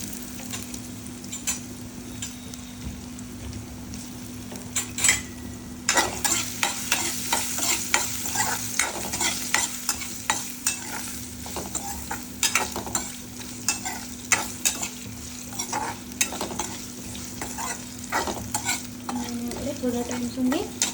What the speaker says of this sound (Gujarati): થોડા ટાઈમ સુધી હલાવીશું જેથી કરી બટેટા ચોંટે નહીં.